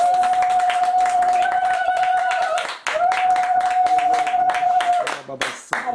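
Church congregation at a prayer service clapping under a loud, sustained voice and music, the applause dense and continuous, pausing briefly before resuming.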